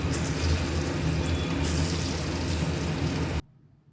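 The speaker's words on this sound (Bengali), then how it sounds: "বাইরে হচ্ছে প্রচণ্ড বৃষ্টি" Heavy rain pours outside in a steady, dense hiss that stays even throughout, then cuts off abruptly just before the end.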